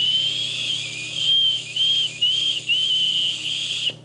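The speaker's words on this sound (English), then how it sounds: "That neat acorn whistle right there from nature." Acorn cap whistle blown through cupped hands gives a shrill, piercing tone in a series of wavering bursts with brief gaps, loud and close, heard alone.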